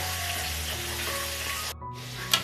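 Carrot, potato and other hard vegetables sizzle steadily in a hot pan, a continuous close frying hiss with a faint stir near the end.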